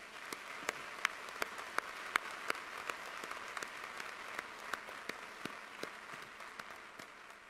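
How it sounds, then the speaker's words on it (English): Scattered applause at the 2018 Washington & Jefferson College commencement, a steady wash of many hands with a few sharp individual claps standing out, fairly faint and distant with no talk over it. "Let's give them a round of applause."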